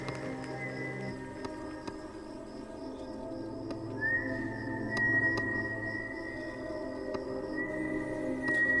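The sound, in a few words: whistling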